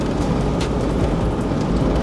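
Rain falling around a Toyota Troopy being driven, a dense, loud, steady hiss mixed with low road rumble, continuous and unbroken for two seconds with no talk.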